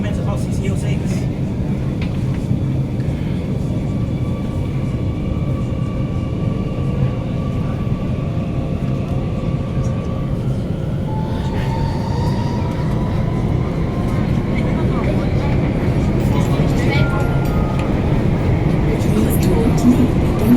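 A CCL6 all-stations shuttle train running after its doors close, a steady low rumble and hum of the moving railcar interior with faint rising motor tones throughout, heard from onboard.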